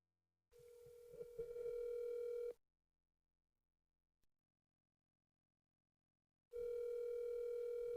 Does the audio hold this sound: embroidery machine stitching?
no